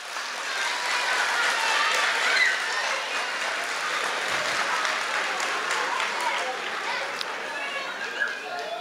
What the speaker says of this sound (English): let us give a warm round of applause for our first grade students